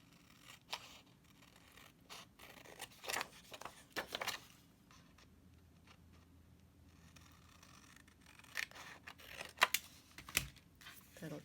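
Scissors snipping through paper to cut out Christmas tree triangles for a shadow box craft, a scattered series of short crisp cuts and rustles, fairly quiet and close, with pauses between bursts.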